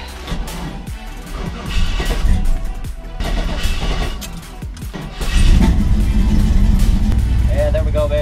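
A Chevy K20 project truck engine cranks, then catches and settles into a louder, steady running rumble. People talk nearby over the engine.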